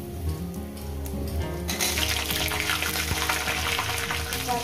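Dried red chilli and panch phoron sizzle in hot oil, a steady broadband crackle and hiss that swells louder partway through, continuous and close with no voices.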